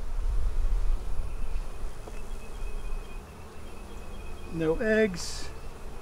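Honey bees buzz steadily around an open beehive in a Bee Castle hive, a close, continuous hum under a person's speech, with a brief louder tonal sweep near the end.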